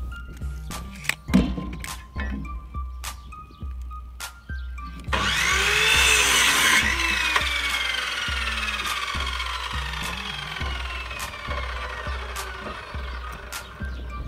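A power saw cutting shadow-clad plywood sidewalls for a woolpress-style bar leaner, with a few sharp knocks and brief bursts before a loud sustained cutting whine that slowly winds down.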